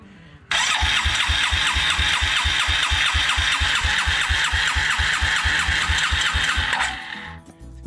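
A Suzuki King Quad 300 ATV with a freshly rebuilt carburetor cranks on its electric starter, giving a loud, close, steady rhythmic churning for about six seconds before it cuts off.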